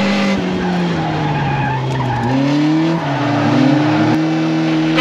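A car drifts around a roundabout at a gymkhana contest, tires skidding in a loud sustained squeal over a revving engine whose pitch wavers and steps up and down as throttle changes, close and continuous with no talking.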